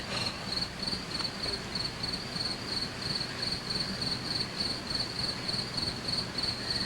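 Crickets chirp steadily in quick, regular pulses over a soft nighttime background hum, with no voices.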